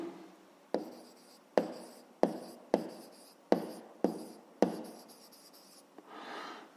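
A pen scratches out math work on paper in short repeated strokes, each starting with a sharp tap and fading, with a softer rubbing sweep at the end; no talk.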